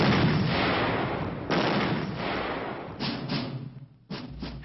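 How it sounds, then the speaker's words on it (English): Army troops test firing weapons on a range at Grafenwöhr: loud, sharp reports with booming echoes, several shots in an irregular sequence that overlap the lingering rumble. No voices. "the troops took up positions on the range and began test firing their weapons"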